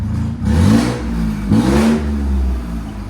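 A Ford F-150 2.7L EcoBoost fitted with aftermarket downpipes and a leaking EGR tube gives two quick throttle blips, loud and close, each climbing and dropping over a steady idle rumble.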